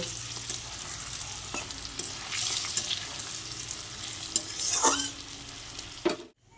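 KFC-style fried chicken pieces in hot oil being stirred and lifted out, a busy crackling sizzle mixed with wet scraping and clinks, fairly close and continuous before cutting off abruptly.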